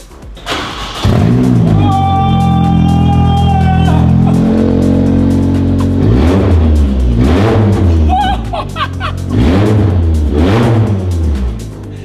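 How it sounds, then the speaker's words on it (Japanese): A custom car's engine cranks and fires up, then roars through loud, repeated revs that rise and fall, close and powerful, with no talking. "じゃあ後ろで今エンジンかけますから、後ろでどんな音出るのか。"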